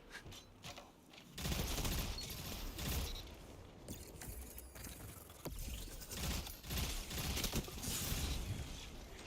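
Rapid video-game gunfire in Destiny 2, bursts of sharp shots cracking in quick succession with brief pauses, dense and close, mixed with clattering mechanical effects.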